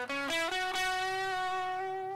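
Electric guitar played through an OD808 overdrive distortion pedal, a few picked notes ringing into one long sustained, harmonically rich distorted tone, close and steady with no talking.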